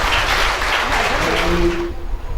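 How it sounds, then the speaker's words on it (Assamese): An audience at an Environment Day gathering breaks into a burst of hand clapping, a dense, close wash of applause lasting about two seconds before fading as a voice begins. "সেইটো আমিও কৰি হাত চাপৰি বজাইছোঁ"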